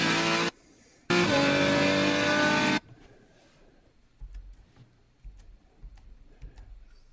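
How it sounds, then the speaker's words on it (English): A race car on a road course brakes hard into a hairpin and then accelerates at full throttle: a loud, sustained engine roar cuts out briefly, returns strongly, then drops away, leaving faint, distant mechanical noise. "Full braking, trail brake in, a lot of rotation, late apex, full throttle, hold full throttle all the way on the exit."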